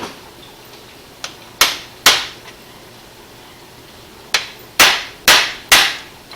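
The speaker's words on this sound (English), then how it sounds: "A couple of whacks here." Hammer blows driving a CV axle into place on a 2008 Honda Rancher ATV: a pair of sharp metallic whacks, a pause, then four more in quick succession, loud and close with ringing decay.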